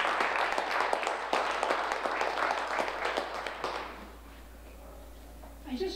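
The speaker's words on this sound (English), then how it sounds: "So please join me in a round of applause" A crowd at a City of Lawrence Veterans Day event claps in a full burst that thins and fades after about four seconds, leaving quiet room tone and a brief voice at the end.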